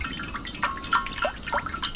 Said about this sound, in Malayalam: സൺഫ്ലവർ ഓയിലാണ് കേട്ടോ ഞാൻ ഒഴിക്കുന്നത്